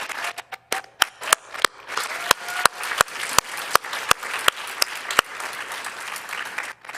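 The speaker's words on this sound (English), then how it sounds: "Can we get another round of applause to Doreen, to Ian, and to Maddie?" Sparse applause at an annual church meeting, with a dozen or so sharp, distinct hand claps from a small group standing out over quieter clapping, close and uneven in rhythm.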